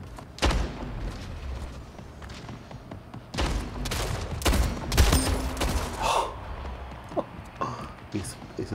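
Shotgun blasts in a shooter video game, a handful of loud, sharp booms spaced irregularly amid in-game clatter and impacts, with a player talking over the action.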